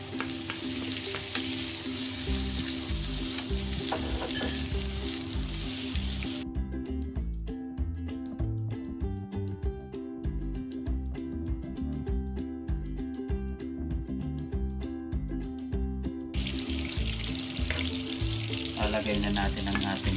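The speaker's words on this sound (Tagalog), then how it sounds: "Melt natin ng butter." Butter melts in a hot pan for a creamy spinach pasta sauce, giving a steady, close sizzle and crackle with occasional stirring scrapes and no talking.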